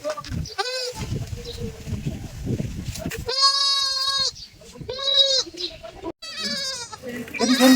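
A goat bleats several times in drawn-out, harmonic calls, some near and loud, with other livestock sounds and some speech between the calls.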